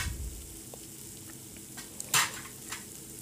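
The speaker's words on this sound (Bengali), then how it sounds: "ডাল সেদ্ধটা ঢেলে দেব।" Boiled lentils are poured into tomatoes frying in a pan, with a steady soft sizzle and a brief, louder splashing hiss near the end.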